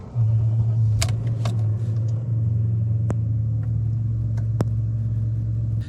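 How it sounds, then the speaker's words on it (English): A BMW E38 735i V8 that has sat unused for a while cranks briefly, then settles into a steady, low, rumbling idle, with a few sharp clicks and knocks heard over the drone. "The first start is always a bit nerve-wracking when you haven't run the car for a little while."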